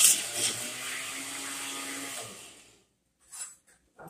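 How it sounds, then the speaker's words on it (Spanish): A blender whirs loudly while blending frozen blackberries and banana with soy milk for ice cream, a steady high motor whine for about two and a half seconds that cuts off, followed by faint clinks. "Así que vamos a proceder a licuar."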